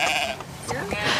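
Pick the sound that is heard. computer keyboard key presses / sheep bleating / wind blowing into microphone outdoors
sheep bleating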